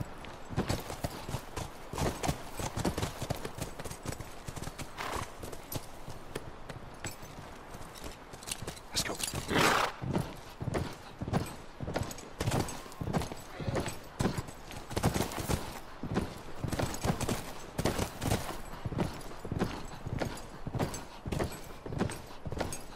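Horses in The Last of Us video game walk steadily with rhythmic clip-clopping hooves on hard ground, close and continuous, with an occasional neigh and snort mixed in.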